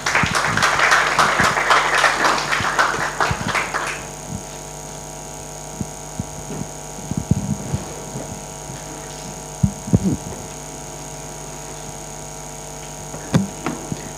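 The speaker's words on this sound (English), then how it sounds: "A round of applause for her as she comes on stage." An audience at a conference applauds as the CEO of TESPOC comes on stage, steady clapping for about four seconds that fades into a hum with scattered thumps.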